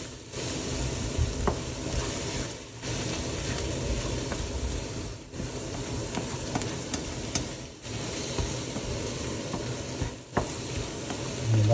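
Eggs are scrambled and fried into kottu roti on a hot pan, giving a continuous close sizzle with frequent scraping and chopping clinks of stirring.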